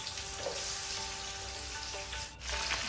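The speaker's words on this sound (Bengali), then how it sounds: "এখন আমরা পটলটাকে ফ্রাই করব।" Marinated pointed gourd (potol) fries in hot oil with a steady, even crackling hiss, close and uninterrupted apart from a brief dip near the end, and no voices.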